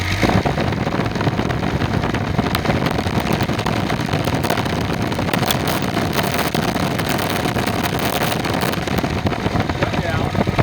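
A car engine idles unevenly with an idle air control valve after being throttled up, its steady loud running hum wavering throughout without pause.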